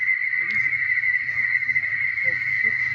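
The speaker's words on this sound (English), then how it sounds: "What you're hearing is the tones that are used to facilitate, bringing in the spaceships." Steady electronic tones from a smartphone contact app used in an outdoor UFO-summoning session, a sustained high pitched hum with a faint higher overtone holding continuously, with quiet background noise and brief soft sounds underneath.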